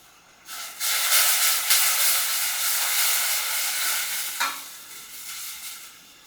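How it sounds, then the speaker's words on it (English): Butter and shortening melt into hot water in a pan, giving a steady close sizzling hiss with light stirring and a brief clink partway through. "I'm using butter and shortening, and then all you do is carefully melt the fats into the water"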